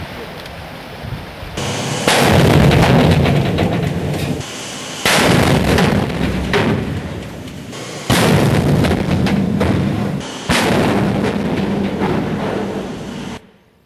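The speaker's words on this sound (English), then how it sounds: "This is what we do to the submarines with underwater explosions." Underwater explosions blast against a submarine in four long, heavy bursts a few seconds apart, each a loud, roaring rumble that holds for about two seconds and then drops back to a lower background hum.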